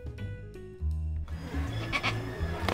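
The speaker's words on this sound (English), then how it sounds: "Hey, look, under your seat. It's a goat." A goat bleats under a seat at a soccer game, giving a few close, wavering cries before noisy crowd sound takes over.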